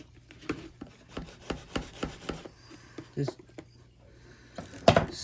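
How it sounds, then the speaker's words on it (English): Rhythmic rasping strokes of a saw cutting through a tube, about a dozen quick back-and-forth passes, close by, with a brief word spoken and a clatter at the end. "sawing at the tube here"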